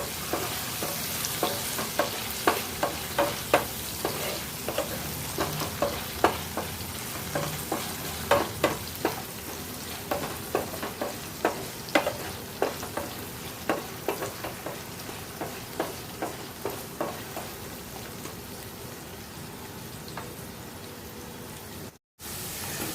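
A pan of frying potatoes sizzles steadily while a utensil scrapes and stirs in regular strokes, before red amaranth leaves are added; the sizzle stays loud and close throughout without any talking.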